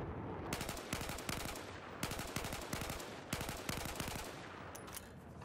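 An M16A4 rifle fires repeated short bursts in Battlefield 4, each quick cluster of loud, close rounds separated by brief pauses, with a continuous noisy backdrop throughout.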